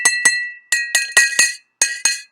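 Glassware filled with different amounts of water is struck in a homemade xylophone, giving eight clear, bright clinks in quick pairs, each ringing briefly at its own pitch, close and loud.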